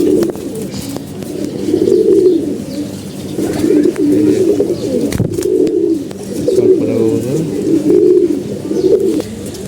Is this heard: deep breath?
no